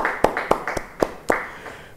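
A church congregation at a Bible study claps in praise, five or six sharp, fairly evenly spaced claps over two seconds, fairly close, with no speech over them.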